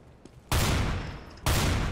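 Two loud, close shotgun blasts boom out in Counter-Strike: GO, spaced about a second apart, each with a long roaring tail.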